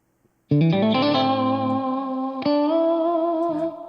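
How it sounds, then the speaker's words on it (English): An electric lead guitar through a free amp-simulator plug-in plays a few sustained, bending notes with a processed amp tone, loud and alone with a touch of effect shimmer. "lead guitar part. This is the one on the free plug-in from last week,"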